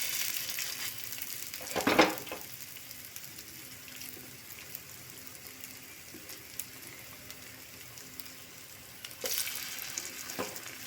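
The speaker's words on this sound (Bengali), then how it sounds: "এখন যে ব্যাটারটা তৈরি করে রেখেছি, ওটা পকোড়ার শেপে আমি একটা একটা করে দিয়ে দেব।" Pakora batter spooned into hot mustard oil, a continuous soft sizzle and bubbling with a louder hiss as pieces drop in, plus occasional utensil clicks.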